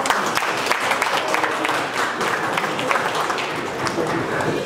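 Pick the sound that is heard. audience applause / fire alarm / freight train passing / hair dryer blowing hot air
audience applause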